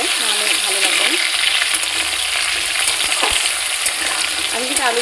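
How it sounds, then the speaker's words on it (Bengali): Potatoes frying in a pan of hot oil for soya paneer, giving a steady, close sizzle and crackle throughout with occasional stirring scrapes, no voices. "আলুটা এখনো ভাজা হয়নি, আর একটু ভাজা হবে, লাল লাল করে একটু ভাজতে হবে"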